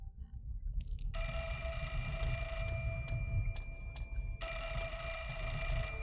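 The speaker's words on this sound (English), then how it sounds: "Phone." Telephone ringing in the video game Project Zero 4, a bright electronic bell ringing in repeated bursts over a low ambient rumble, fairly loud and close, with no talk.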